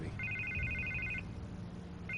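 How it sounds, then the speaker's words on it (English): A telephone rings in repeated bursts of an electronic trill, one long burst then another starting near the end, steady and moderately loud over a low background hum, with no talking. "I can't get the phone to stop ringing"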